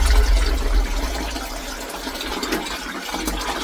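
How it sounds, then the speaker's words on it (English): Water poured from a watering can into a plant pot in a cold garden, a steady close splashing and gurgling stream lasting a few seconds with no talk. "I'm going to add a little bit more water to this"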